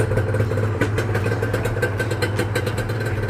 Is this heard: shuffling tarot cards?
no